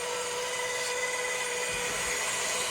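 A drill bores through a steel cross member for a stabilizer brace on a cradle for a 671 Detroit Diesel, the oiled bit giving a steady high whining grind, close and continuous throughout.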